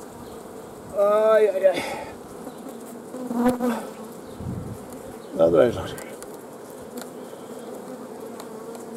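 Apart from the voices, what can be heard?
honeybee swarm buzzing around hive frames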